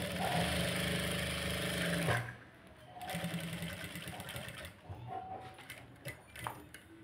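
Sewing machine stitching a princess-cut blouse: a fast, steady mechanical whirr for about two seconds that stops abruptly, followed by quieter clicks and handling sounds of fabric being adjusted.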